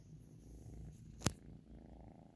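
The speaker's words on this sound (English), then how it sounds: "We found this cat." A kitten purrs in a soft, continuous low rumble that stays close and steady, with one sharp click or bump cutting through partway.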